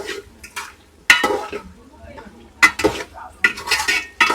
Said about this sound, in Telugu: బాగా మొత్తం కలిసేలా కలుపుతున్నావా